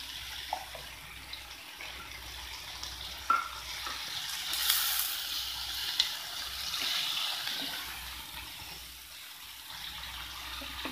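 Finely chopped beans cooking in a pan on a low gas flame without water, a soft continuous sizzle with occasional faint stirring clicks, fairly quiet and close.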